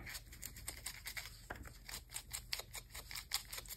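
Paper document being folded and creased by hand for an art journal page, with repeated crisp crackles and brushing rustles close up, a sharper fold snap partway through.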